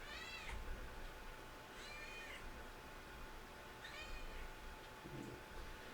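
A pet cat named Gabby meows three times at a steady pace, fairly close and moderately loud, over quiet room noise in the dark early morning.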